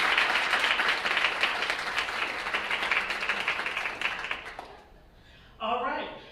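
An audience at a teacher-of-the-year awards breakfast gives a dense, sustained round of applause that fades out near the end, then a single voice speaks briefly.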